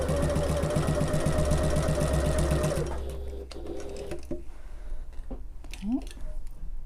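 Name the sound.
sewing machine top stitching a sling bag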